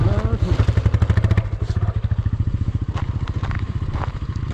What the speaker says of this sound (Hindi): हमारी बाइक खड़ी खड़ी स्लिप मार रही है